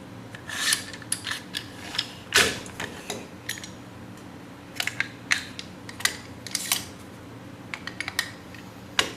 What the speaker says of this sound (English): I'll use this M4 steel bolt and put inside this T91.